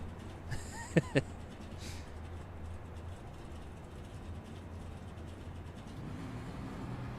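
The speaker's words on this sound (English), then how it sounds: "he's just literally dropping the revs all the way as John Jarrett." A racing truck engine in a video game drones low and steady at moderate volume, with a few brief clicks early on and the revs dropping near the end, at Texas Motor Speedway.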